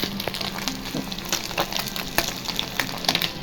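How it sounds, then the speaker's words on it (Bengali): Fish frying in a pan, a steady close crackle and sizzle with scattered sharp pops and light clinks of a utensil throughout, no talking. "এই যে আমাদের মাছ ভাজা হচ্ছে"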